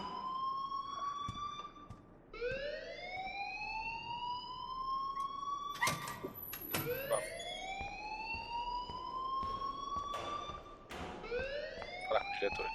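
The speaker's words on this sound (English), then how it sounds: "please turn off that alarm since that's your job" A repeating electronic alarm in the Life is Strange video game, rising whoop tones that sweep upward again and again over a steady background, punctuated by a few thumps.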